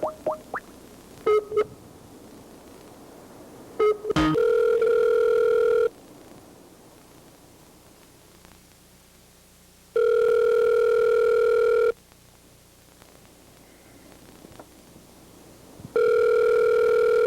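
An unanswered phone call, with a telephone ringback tone sounding in steady, evenly spaced bursts separated by long pauses. The tone is loud and clear, with no voices.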